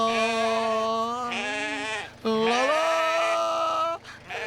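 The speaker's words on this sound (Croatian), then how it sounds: "Ovce su strašno razdražljive." Sheep bleat loudly and close by in long, wavering cartoon calls, two drawn-out bleats separated by a short pause, with a brief third starting at the end.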